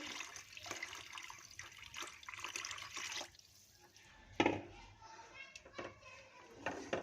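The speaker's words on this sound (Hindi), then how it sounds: "ये देखिए इसमें हम 2 गिलास तकरीबन पानी डालेंगे।" Water splashes and pours into a cooking pot of moong dal, about two glasses, with a short gush midway, while children's voices and household chatter carry on in the background.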